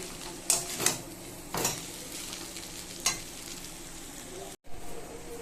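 Chowmein tossed with scrambled egg and cooked meat in a hot pan, stall-style, sizzles steadily while a utensil scrapes and clatters against the metal in several distinct strokes, close and moderately quiet, with a brief dropout near the end.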